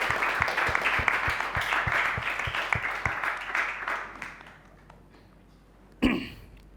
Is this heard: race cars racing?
no